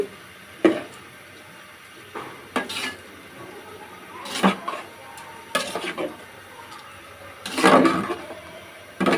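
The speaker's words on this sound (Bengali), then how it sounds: "আবারও একটু নাড়িয়ে নিচ্ছি" A spoon stirs rice, lentils, turmeric and red chili powder in a pot for winter khichuri, giving repeated close scrapes and clanks against the metal with a soft sizzle between strokes.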